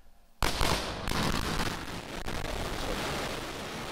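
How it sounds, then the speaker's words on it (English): Sonic booms from the returning SpaceX Falcon Heavy side boosters break in suddenly as loud, rumbling cracks, followed by a long, rolling thunder-like roar. "that sonic boom was great for us."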